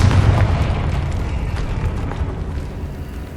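A Confringo fire spell detonates in Hogwarts Legacy, a loud, close boom followed by a rumbling roar that slowly fades, with no talk over it.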